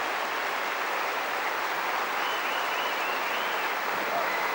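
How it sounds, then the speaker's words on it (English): A tennis crowd at the 1989 Australian Open quarterfinal stands and applauds, a steady, dense roar of clapping that fills the whole stretch without a break. "The crowd is standing and applauding as they should."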